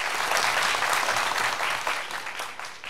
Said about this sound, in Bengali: সেলিনার জন্য একটু করতালি হবে।